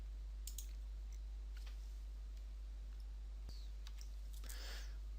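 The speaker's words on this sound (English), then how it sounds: "So just click on the button." Mouse button clicks on a computer while adding a new glossary entry, a few faint, sparse sharp clicks in a quiet room.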